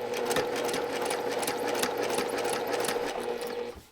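Sewing machine stitches a sunglasses case with a steady rapid whir and needle chatter throughout, close and clear, fading out at the end.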